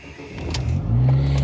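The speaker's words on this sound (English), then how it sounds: "as much as I do enjoy a nice drone sound from a car, this one's a bit much" A steady low engine drone fills the cabin, rising slightly in loudness, with road rumble and no talking.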